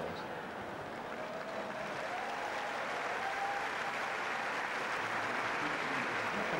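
A Wimbledon tennis crowd applauds in a steady, dense wash of clapping that sounds fairly distant and faint, continuing without a break.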